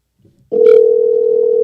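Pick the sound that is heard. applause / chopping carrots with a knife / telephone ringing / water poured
telephone ringing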